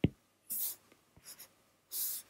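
A pen drawing a bow on a cartoon character: a few short, quiet scratchy strokes separated by pauses, with no talking.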